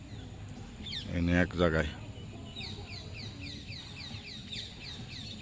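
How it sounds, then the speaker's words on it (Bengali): Birds chirp and call outdoors near a boat on a river in Mymensingh, Bangladesh, with a series of faint high chirps after a brief burst of nearby talk. "এই দেখেন পাখি, কত সুন্দর সুন্দর পাখি"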